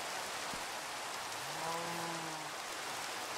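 Continuous rain pours in a Minecraft-style blocky video game, a broad steady hiss of falling drops, with a short low tonal moan rising and fading partway through.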